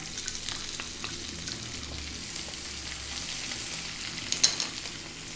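Onion frying in hot oil on high heat for keema matar, a continuous close sizzle with scattered faint crackles and a couple of sharper pops near the end.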